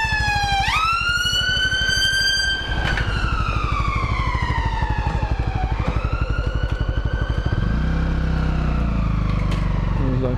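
A wailing ambulance siren sweeps up and down in pitch close by, over the continuous putter of an idling motorbike engine.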